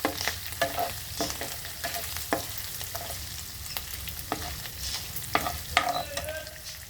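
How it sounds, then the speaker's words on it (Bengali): Steady sizzle of frying with repeated scraping clicks of a spoon stirring lentils in a pan, close and continuous, no voices. "মুগ ডালটা এর সঙ্গে একটু ভেজে নেবে।"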